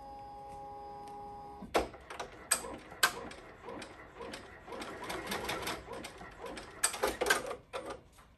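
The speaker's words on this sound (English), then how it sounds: "now it's going to stitch the spot for your ribbon" An embroidery machine stitches the ribbon spot on a pot holder, a close rapid mechanical chatter with ticking and ratcheting pulses, preceded by a brief steady tone.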